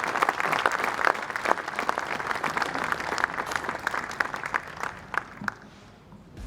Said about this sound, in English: Please give another round of applause for our Para Men's Pairs medalists.